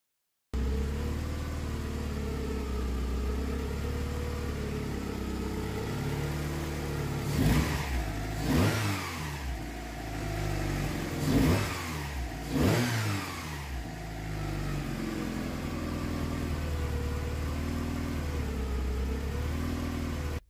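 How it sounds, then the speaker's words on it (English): Volkswagen Mk2 Golf GTI 16v engine, freshly rebuilt with its misfire cured, idling steadily close by, then revved sharply four times in two pairs before settling back to a smooth idle. "the engine's back together and it's running beautifully"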